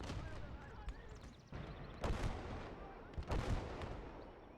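Gunfire and artillery on a World War II battlefield in the Gates of Hell game, repeated heavy booms and scattered shots at irregular intervals, moderately distant within a noisy combat backdrop.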